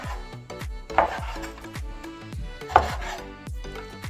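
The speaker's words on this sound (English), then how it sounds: "so just chopping between bones" A cleaver chops between meat bones on a board, giving a few heavy, close, sharp thuds among lighter knocks, with no talking.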